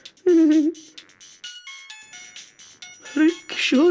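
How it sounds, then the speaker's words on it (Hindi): Ringtone from a broken phone, a melodic electronic tune of short rising and falling tones that plays loud and close in a small room, interrupted by a voice and someone moving. "टूटे हुए फोन पे फोन कैसे आ रहा है?"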